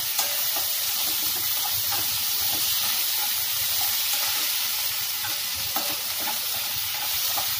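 Mashed potato is worked into a semolina dosa batter. A steady, close, even scraping and stirring texture runs throughout, with a few faint clicks and no talk.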